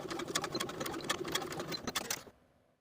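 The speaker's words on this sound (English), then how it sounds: "we're going to sew across the placket along the bottom of that V section" A sewing machine stitches across the bottom of a V-shaped placket on a women's top, backstitching to secure: a steady, close, rapid mechanical chatter for about two seconds that stops abruptly, leaving near silence.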